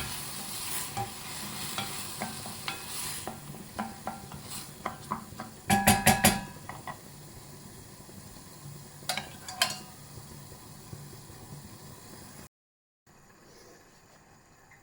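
Rice for a risotto with sea robin (gallinella di mare) toasts and cooks in a pan as fish flavouring goes in, giving a soft sizzle under repeated spoon scrapes and clattering stirs, with a burst of clatter midway before silence near the end.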